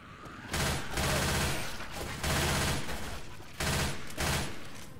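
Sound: gunfire shooting at a zombie in Left 4 Dead 2 video game

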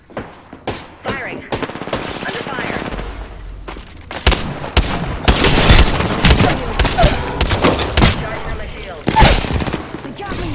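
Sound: gunfire in the video game Apex Legends

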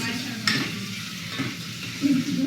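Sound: onion and tomato frying and being stirred for pav bhaji

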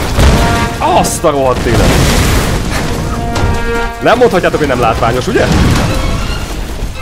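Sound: explosions in the video game Tomb Raider (2013)

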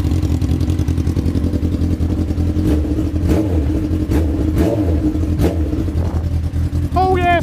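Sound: sport motorcycle engine running

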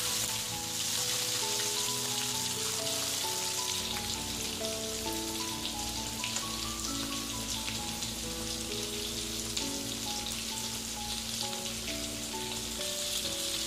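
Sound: quail chest pieces frying in oil

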